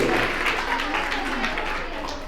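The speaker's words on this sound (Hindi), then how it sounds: "एक बार जोरदार ताली दीजिए मेरे साथ।" Audience at a devotional bhajan gathering applauding, a dense wash of many hands clapping with scattered voices mixed in, fairly close and steady before tapering slightly.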